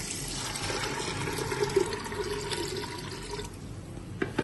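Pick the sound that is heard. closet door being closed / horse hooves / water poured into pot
water poured into pot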